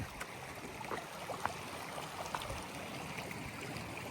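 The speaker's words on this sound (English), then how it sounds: "Moxie Pond stream." Stream water flowing at Moxie Pond, a steady broadband rush and trickle with a few brighter splashy gurgles, fairly quiet and continuous throughout.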